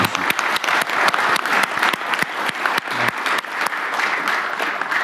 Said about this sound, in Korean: 우리 참여해 주신 분들한테 감사의 박수를 한번.